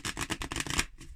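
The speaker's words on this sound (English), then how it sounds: "I really don't shuffle my cards this way" A deck of tarot cards being shuffled by hand, a quick run of about eight papery riffling bursts close by, then a fainter final flutter.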